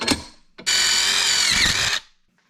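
A power drill fitted with a tap cuts threads into metal while a ceiling light-fan is installed, giving one loud, close, steady whine that lasts about a second and a half after a brief knock.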